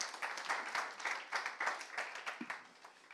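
Conference attendees at a live shopping talk clap for two speakers on stage, a fairly quiet round of applause with irregular bursts of hand claps, heard from a distance.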